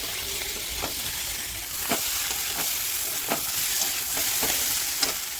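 Fish roe sautés with spices in a pan, giving a continuous close sizzle broken by several sharp spatula scrapes and taps at irregular intervals, with no one speaking.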